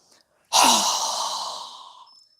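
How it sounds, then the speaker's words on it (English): One long, strong exhale during a yoga breathing exercise, a sudden close breathy rush that fades gradually over about a second and a half, with nothing else heard. "Strong exhale again."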